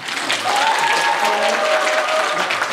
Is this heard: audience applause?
yes